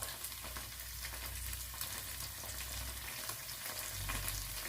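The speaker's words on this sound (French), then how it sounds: "Donc, on va le faire cuire avec les oignons." Onions with a little garlic frying in a non-stick pot for a Senegalese chili sauce, a steady, even sizzle that runs throughout with no talking.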